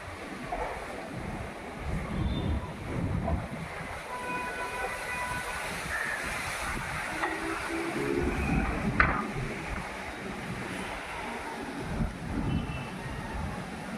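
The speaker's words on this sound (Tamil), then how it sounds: "ஐயோ நல்லா காற்று மழை" A continuous heavy rumble of wind and driving rain, loud and unbroken, with occasional brief tonal squeals over the roar and no voices.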